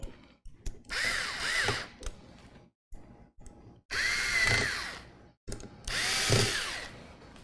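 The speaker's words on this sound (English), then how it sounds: "See, that cordless driver just makes light work out of this tedious task." A cordless driver sets screws while a CPU cooler is installed, running in three loud whirring bursts with short pauses between them, its motor pitch winding up and down with each screw.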